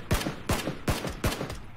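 Four sharp gunshots ring out in quick, evenly spaced succession during a PUBG match, each a crisp crack with a short tail, fairly faint overall.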